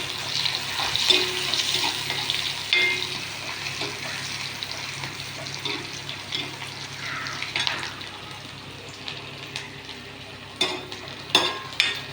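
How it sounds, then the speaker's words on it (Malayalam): Onions frying in coconut oil in a pan for a Kerala-style fish curry, heard as a moderate steady sizzle with stirring clatter and a few sharp utensil clinks toward the end, no speech. "അതിലേക്ക് വെളിച്ചെണ്ണ ഒഴിച്ചു ഇനി നമ്മൾ ഉള്ളി ഇടുകയാണ്"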